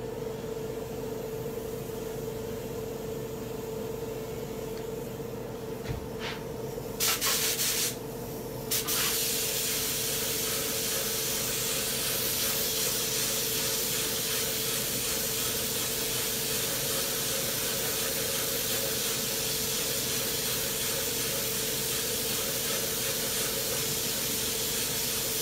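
Tamco pink pearl paint sprays onto a mug in a steady, close, continuous hiss that briefly cuts out and restarts, then runs on evenly for many seconds.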